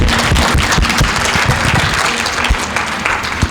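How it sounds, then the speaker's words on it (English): An audience at an evening talk bursts into a full, dense round of applause, loud and close, many hands clapping continuously for several seconds with no speech over it. "please, round of applause"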